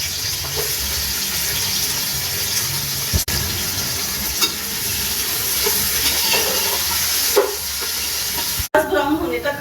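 Chopped onions fry in two spoons of oil in a hot pot for matar pulao, sizzling steadily and close with occasional stirring clatters and a sharp knock near the end.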